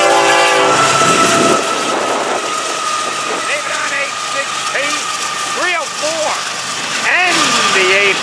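FEC freight train rolling past in strong southerly wind over East Central Florida, loud wind rumble throughout with repeated horn blasts sounding around the middle and end, close by.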